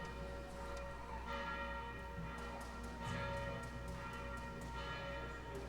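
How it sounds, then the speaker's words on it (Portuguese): Church bell rung by pulling its rope before a Christmas Eve service, sounding as a steady run of repeated ringing strokes that carry through the whole stretch over a low hum. "Acho que o pessoal pode parar de puxar a corda lá do sino."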